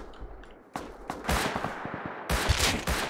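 Bursts of gunfire in the survival video game Rust: several sharp close shots, then a denser rapid volley of loud automatic fire filling the second half.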